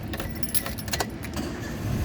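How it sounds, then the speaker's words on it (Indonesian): Keys jangle in the ignition of a manual 2012 Daihatsu Terios 1.5 TX, a close metallic rattle with faint low cabin rumble, no clear engine crank heard. "sekarang coba kita nyalakan mobil"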